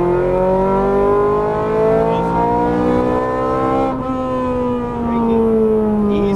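Ferrari 430 Scuderia engine pulling hard on a track as the throttle is squeezed, a loud, close, rising high-pitched wail that dips briefly at a shift and then climbs again.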